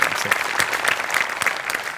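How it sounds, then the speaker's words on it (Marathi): Loud applause for Sachin More fills the room, a dense crowd clapping steadily with no pauses, close and sustained throughout. "सचिन मोठे सरांसाठी एकदा जोरदार टाळ्या"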